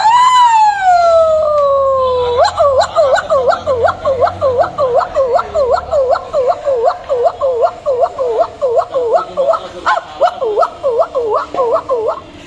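A voice imitates an ambulance siren, first with a long falling wail and then a fast, steady warble that repeats for several seconds, loud and close.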